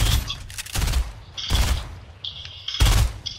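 Fortnite gameplay gunfire: three loud booming shots about a second apart, with brief high-pitched game effect tones between them and a voice talking faintly in the background.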